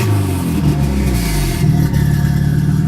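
A car running without an idle air control valve, fitted with large injectors, churns and revs unevenly right after start-up, a loud, rough engine note that rises and dips over about three seconds with no talking.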